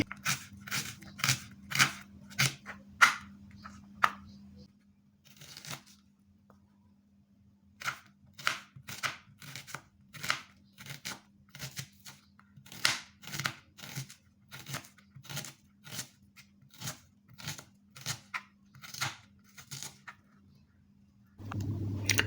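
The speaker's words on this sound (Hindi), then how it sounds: "बड़े प्याज की हम स्लाइस कर रहे हैं, थोड़ी बड़े साइज़ की" A kitchen knife slicing a large onion into fairly thick slices for aloo bhindi, a steady run of crisp cutting taps on a board, close by, with a low hum underneath.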